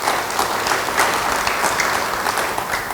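A church congregation claps together in a dense, steady burst of applause that holds evenly for a few seconds, close and fairly loud, with no talking over it.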